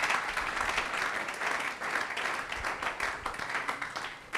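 Congregation at a church service applauding to acclaim the Lord, a dense, steady burst of many hands clapping together, fairly loud and sustained throughout with no voices over it.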